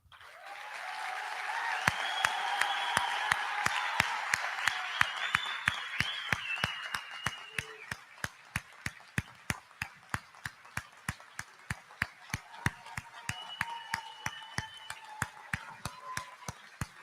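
A high school commencement audience applauds the Class of 2023 seniors who are joining the military. Sustained crowd applause settles into steady, evenly spaced rhythmic clapping, with faint voices drifting above it.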